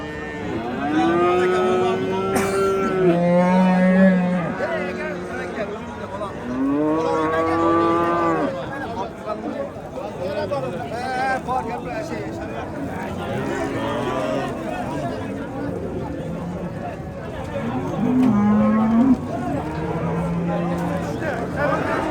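Several cows moo loudly, some long and drawn-out, amid a crowd of voices and general bustle at the Shahidon livestock market.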